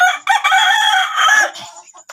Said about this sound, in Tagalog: Kana manok ni San Pedro gihatak